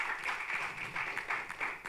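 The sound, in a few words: audience applause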